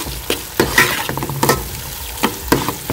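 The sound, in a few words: stirring potatoes with mayonnaise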